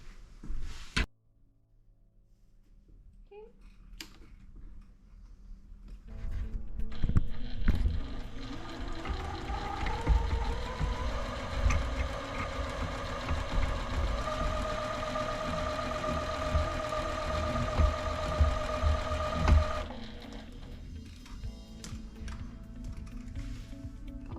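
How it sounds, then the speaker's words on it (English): A sewing machine stitching quilt fabric from corner to corner runs steadily for over ten seconds, its mechanical whir settling into a constant stitching drone before stopping abruptly, with quieter handling sounds before it. "we are going to go and sew from corner to corner on the sewing machine"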